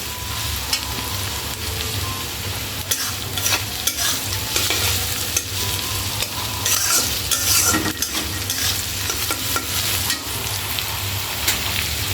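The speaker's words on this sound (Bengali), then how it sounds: "পেঁয়াজ ভাজা হতে থাকুক।" Onions with a little salt frying in a pan while being stirred, a loud close sizzle broken by frequent scraping and clattering strokes of the spoon throughout.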